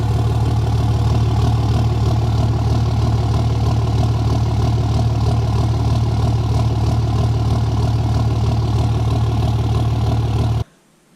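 A 12V Cummins diesel pickup idles close by with a steady low rumble and a slight lope, running evenly until the sound cuts off abruptly near the end.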